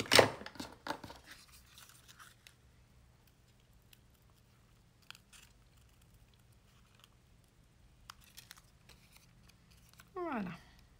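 Crisp scissor snips cutting paper for a Christmas card open the clip, followed by faint scattered clicks in near silence and a short rasping cut near the end.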